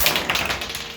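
Bottleman DX toy firing a bottle cap, heard as a quick series of sharp plastic taps and clicks, close and fairly loud.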